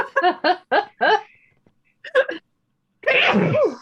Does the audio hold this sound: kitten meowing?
no